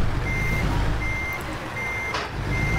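Reversing beeps from a truck in American Truck Simulator sound as a steady series of high electronic pips over a low engine rumble, with no talking.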